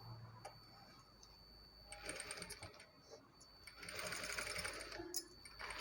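A sewing machine stitches a work blouse, turning the fabric around a rounded neckline, in short bursts of quick mechanical rattle with ticking pauses between, close and soft, with faint talking.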